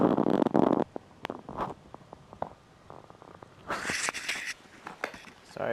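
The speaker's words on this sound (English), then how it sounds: "Sorry about the noise. I grabbed the mic just now." Close, handled microphone picks up a loud burst of rubbing and rustle at the start, then scattered knocks and clicks, and another broad scraping rustle near the end as someone shuffles around.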